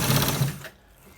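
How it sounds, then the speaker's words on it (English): A sewing machine stitches a trouser side pocket, running in a close, loud burst for about half a second before stopping and leaving a quiet room. "So guys, we are stitching it to the top part."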